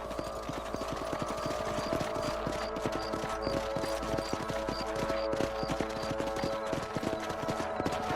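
Horse hooves clip-clop in a steady trot in the video game Red Dead Redemption, close and continuous, layered over a constant droning background tone with no talking.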